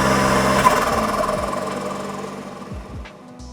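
A Can-Am Maverick X3 Turbo RR engine runs on launch control at a steady high-rev drone for a few seconds before the revs drop away, loud and close with no talking over it.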